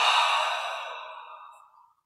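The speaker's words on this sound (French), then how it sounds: "On se détend et on expire par la bouche." A deep, breathy exhale through the mouth during meditation breathing, close and clear, starting strong and trailing off softly over about two seconds, alone.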